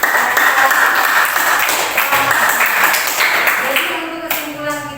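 A school class in an Indonesian chemistry lesson does a rhythmic spirit clap, a patterned run of sharp group claps that fades toward the end, mixed with voices and a few bright ringing tones.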